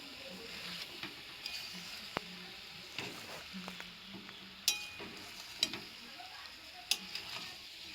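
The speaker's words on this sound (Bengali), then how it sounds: "সবজি যত কষবেন তত রান্নার টেস্ট বাড়বে।" Vegetables with pumpkin frying in a pan: a soft low sizzle runs throughout while a spatula scrapes and lightly taps the pan now and then, quiet and without talk.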